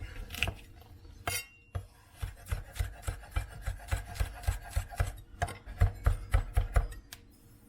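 A knife roughly chops onion and garlic on a board in quick, uneven strokes, close and distinct, with the pace picking up toward the end. No one speaks.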